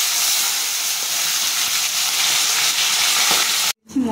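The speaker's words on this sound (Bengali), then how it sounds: "এবার দিয়ে দিচ্ছি ম্যারিনেট করা চিংড়ি মাছ।" Marinated prawns hit a hot pan with a loud, steady sizzle and hiss that holds for several seconds before cutting off abruptly.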